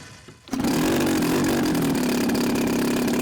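An EME 70 twin model engine starts up and idles loudly and steadily at close range, a constant buzzing drone after a brief quieter moment at the start.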